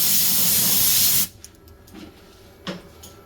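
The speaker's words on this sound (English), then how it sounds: "I'm going to grab my air hose," Compressed air hose blasting a loud, steady hiss onto a machined part in a machine shop for just over a second, then cutting off, followed by a few faint clanks and taps in a quiet room.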